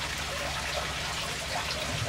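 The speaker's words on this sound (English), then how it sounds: "the water now is going to come from there and cascade down there" Water cascading down rocks inside an acrylic paludarium, a steady, soft, continuous trickle and splash heard close and alone.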